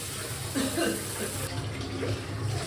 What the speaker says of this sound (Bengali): এই যে মুগ ডালটা সেদ্ধ করে রেখেছিলাম দিয়ে দিচ্ছি।